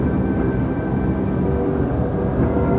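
Glasair kit airplane engine droning steadily during an aerobatic hammerhead turn, a continuous loud propeller hum with no breaks, heard alone from the ground.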